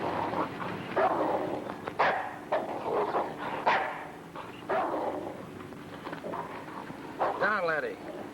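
A dog barks several times in short bursts amid people talking, with a whimpering yip near the end, in a 1958 film scene.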